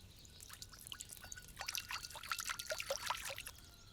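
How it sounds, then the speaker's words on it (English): Water poured into a pot for pasta while cooking outdoors in nature, a quiet trickle that builds into a splashing, bubbling stream over a few seconds, close by with no talking. "We prepare some water in a pot for the pasta."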